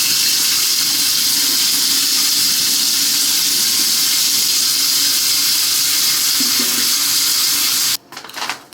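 A bathroom tap runs hard into a sink while a face is washed, a loud, steady rushing hiss close by that stops abruptly near the end, followed by a few small splashes.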